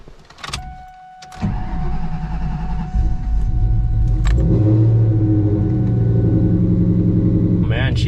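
A car engine cranking and catching on its first start of the year, a short whir and click followed by a loud, steady idling rumble close by, with a voice speaking over the running engine.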